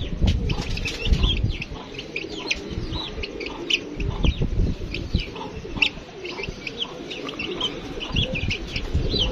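Pigeons coo and cluck amid bursts of wing flapping, a busy, continuous flock sound with repeated soft calls throughout.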